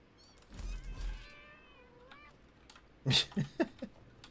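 Several cats meow in quick succession in a cave in the video game Satisfactory, fairly quiet over a low background hum, followed by a few louder thumping bursts.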